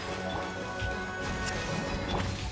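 Frozen enemies shattering in Genshin Impact during an Albedo shatter team fight, giving a loud burst of icy crashes and cracking hits over busy game effects, all packed into a couple of seconds.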